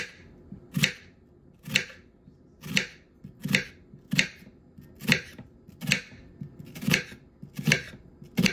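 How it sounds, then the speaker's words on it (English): A medium sweet onion being cut down on a cutting board with a knife, about a dozen sharp, evenly spaced chops close up, with quiet pauses between strokes and no talking. "Then we're gonna cut up our onion."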